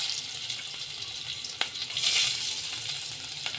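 Crushed garlic sautés in hot oil with a soft, steady sizzle, punctuated by a few sharp spatters and a brief louder crackle midway; quiet and close, no voices.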